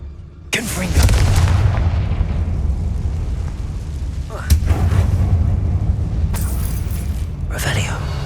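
Confringo fire spell explosions in the Hogwarts Legacy video game: two heavy booming blasts with long rumbling tails, followed by a pair of sharper cracking bursts later on, loud and close.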